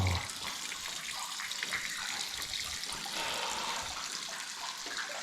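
Loud, steady rush of water inside a natural cave by a valley stream, filling the space with a dense roar that holds from start to finish.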